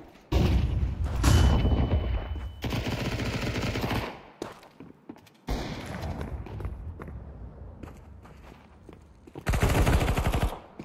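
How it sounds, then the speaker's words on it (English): In a video game, loud bursts of gunfire and booming blasts come in several heavy stretches with short gaps, among them a thrown flashbang grenade going off. "I'm throwing a flashbang."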